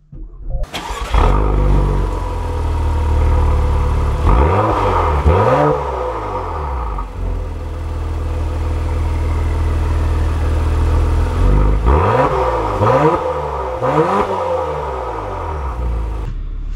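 A new Acura TLX Type S cranks and starts up close, then its engine revs sharply twice in rising sweeps, settling back to a steady idle between the bursts.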